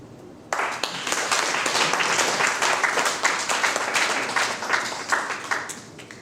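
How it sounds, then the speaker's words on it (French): Sustained applause from an audience at a lecture on the symbolism of the Djoto ritual in Black Africa, breaking out suddenly and holding as a dense, steady clatter of many hands with no talk. "Je vous prie de saluer par l'applaudissement nourri ces deux exposés"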